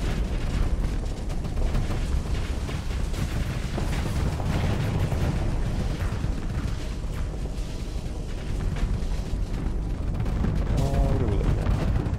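Ship guns and missiles fire continuously in the space combat game Starsector, producing a dense, loud rumble of booms and blasts with no pauses across the whole stretch.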